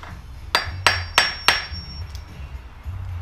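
A fitting is hammered to flare its end during an L80E transmission HD2 kit install: four sharp, loud metal strikes land close together about a third of a second apart over a low background hum.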